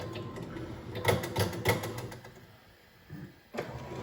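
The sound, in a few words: 3D printer filament feeding through tube into buffer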